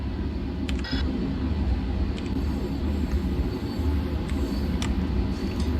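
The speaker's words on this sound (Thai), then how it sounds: "ปิดประตูแล้ว เราขับเดินไปข้างหน้าแล้ว แล้วก็อันนี้คือ set cruise cruising speed ก็ coast อยู่เท่านั้นเอง" An M7 electric train on the Long Island Rail Road coasts at cruising speed, producing a steady low rumble with a few faint clicks and rattles and no speech.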